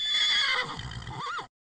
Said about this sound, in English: My horse sample sounds like this.